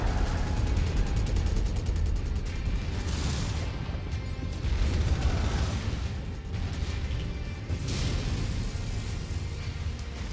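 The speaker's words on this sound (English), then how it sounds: "Explosion detected." A continuous roar of explosions and mech combat fills a MechWarrior 5 battle on an urban map, dense and steady throughout with heavy low rumble and brief bursts, with no clear talk.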